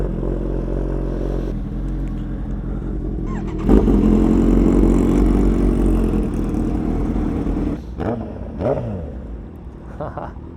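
Two sport motorcycles, a Kawasaki Ninja H2 and a Suzuki Hayabusa, idle and then rev up and pull away, a loud close engine rumble that swells into a sustained roar before easing off and revving again.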